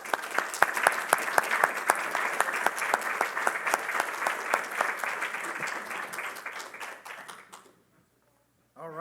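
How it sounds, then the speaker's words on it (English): An audience at a passenger rail summit applauds a panel on economic impacts, a dense, loud burst of clapping that holds steady for several seconds, then fades out into near silence. "A round of applause to our panel."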